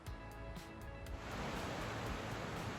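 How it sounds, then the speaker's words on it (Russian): A river rushes far below a forest road on the way up the Saint Gotthard Pass in the Swiss Alps, a steady broad roar of water that swells and fills the scene after a brief rumbling start. "Внизу шумит река."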